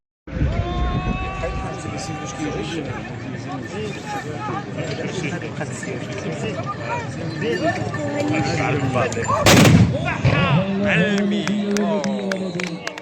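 At a tbourida horse display in Taza, a single loud black powder volley bursts out near the end over a constant din of galloping hooves and a cheering crowd.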